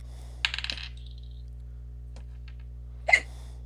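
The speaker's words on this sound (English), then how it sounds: "No, that was a hiccup." Two short, sharp hiccups sound close by, a cluster of quick clicks followed about three seconds later by a single abrupt hiccup, over a low steady hum.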